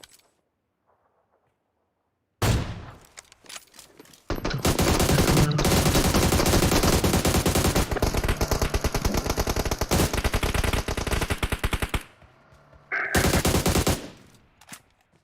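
Automatic gunfire in an online shooter video game: after a quiet start, a sharp burst, then long sustained rapid-fire volleys, loud and close, broken by brief pauses and ending with another short burst.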